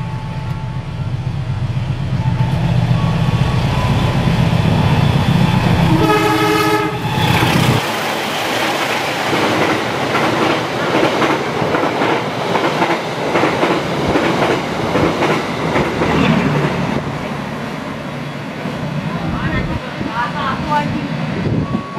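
A train rolls through Telaga Murni station in Indonesia with a loud rumbling clatter, a horn sounding briefly early on, wheels clacking steadily along the rails as it passes close by.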